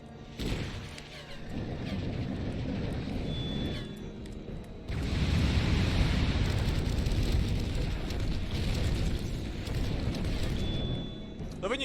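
A sustained, roaring explosion rumbles in the mech combat game Chromehounds, loud and dense for several seconds among close-packed settlement buildings, with continuous heavy low-end battle noise throughout.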